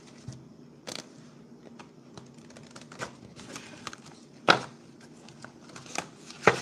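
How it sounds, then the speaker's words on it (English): A deck of cards is shuffled by hand, soft scattered riffling and tapping with a few sharper clacks, fairly quiet and close. "Never been able to shuffle cards."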